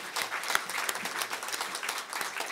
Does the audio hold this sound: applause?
yes